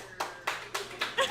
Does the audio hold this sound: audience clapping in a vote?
yes